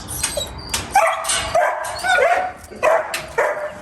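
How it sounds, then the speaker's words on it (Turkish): A Kangal dog barks repeatedly outdoors, loud and close, in a series of separate sharp barks mixed with higher yips and whines. "Kurtlar ne yazık ki kıskandığı zaman havlayabiliyor."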